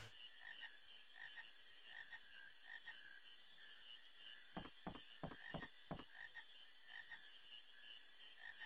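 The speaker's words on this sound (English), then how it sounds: "I'm probably going to end up, like, completely draining this swamp of frogs" Frogs croaking in a swamp within a video game, a steady chorus of soft rhythmic croaks with a quick cluster of louder, sharper croaks in the middle, no voices.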